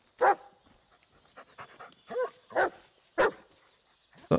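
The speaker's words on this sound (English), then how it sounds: "Do I follow the dog?" A dog in the horror video game Blair Witch pants steadily between several short, punchy barks and whimpers, fairly close and with no talk over it.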